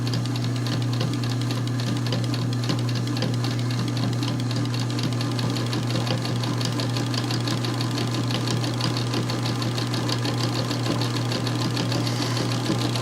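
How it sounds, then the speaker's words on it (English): A Pfaff sewing machine stitching fabric, running continuously and close with a fast, steady mechanical hum and rapid needle clatter, unbroken and without pauses. "I'll shorten it as we sew"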